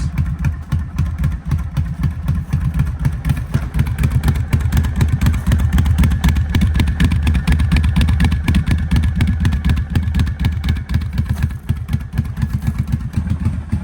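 A Kawasaki KFX 700 ATV engine runs on choke with a loud, steady, close-up idle that keeps a rough, pulsing chug throughout.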